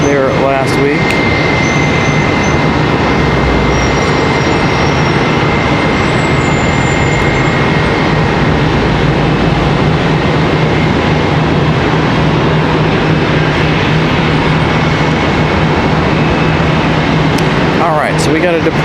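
A Piedmont Airlines ERJ 145 regional jet departs Charlotte Douglas airport, heard as a loud, continuous broadband jet roar that holds steady throughout, with people talking over it.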